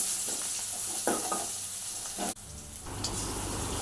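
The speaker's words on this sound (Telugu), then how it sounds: "2 స్పూన్స్ ఆయిల్ వేసుకొని జీలకర్ర ఆనియన్స్ ఫ్రై చేయాలి" Cumin seeds and onions fry in a couple of spoons of hot oil, a continuous hiss with stirring scrapes, one brief drop in the sizzle partway, then the frying carries on, no speech.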